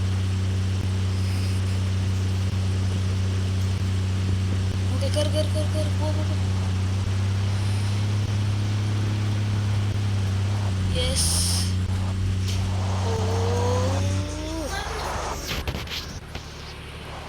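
A new car strains to climb an off-road slope. Its engine holds a steady, loud low drone for most of the clip, then cuts out near the end, leaving quieter scraping and shuffling sounds.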